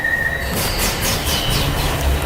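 Glasgow Subway train running through a tunnel, a loud, close rumble with metallic wheel squeal and rhythmic rail clatter continuing for a couple of seconds.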